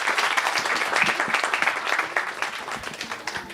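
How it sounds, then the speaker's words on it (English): An audience at a kids' school annual day claps for a mothers' stage performance, a lively burst of applause that gradually thins toward the end. "Please give them a big round of applause."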